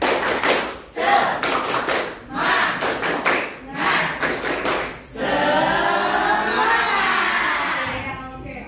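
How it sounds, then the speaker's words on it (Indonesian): Students in a classroom perform the tepuk semangat icebreaker, a run of patterned clapping bursts with short pauses between them, then a sustained stretch of children chanting together. "hari ini kita akan melakukan ice breaking tepuk semangat"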